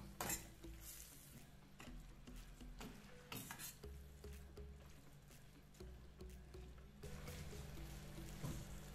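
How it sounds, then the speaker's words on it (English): Peppers, kale and callaloo are stirred in a pan for rasta pasta with a metal utensil. It makes close, faint scraping and clanking with a soft sizzle underneath, repeating in uneven strokes. "Give that a good stir so our greens go limp."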